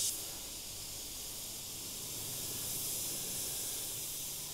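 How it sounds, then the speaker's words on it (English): An airbrush sprays paint at 30 PSI with a 1-to-1 mix, giving a steady, close hiss of air that starts abruptly and holds level for several seconds, with no talking. "Just a quick spray out."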